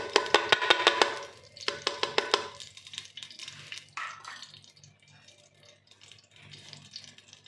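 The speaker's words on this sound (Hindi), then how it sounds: "ये मैं घी इसमें डालने लगी हूँ हांडी में" Ghee poured into a hot clay handi pot for restaurant-style palak chicken gives a close sizzling, watery pouring sound, strongest in the first few seconds and then fading to a faint crackle.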